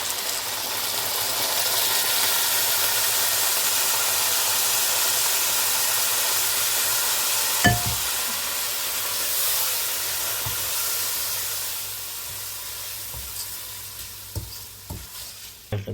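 Rice tipped into a hot pot of fried vermicelli hisses in a steady, loud sizzle while being stirred, the frying slowly settling as scattered clinks of a utensil against the pot come through near the end.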